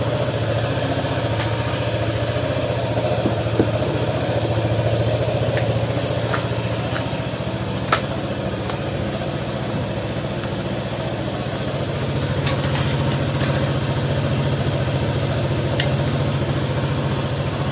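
A Honda PCX scooter engine idles steadily and loudly right after being started, a close, even mechanical hum with faint clicks and no change in pace.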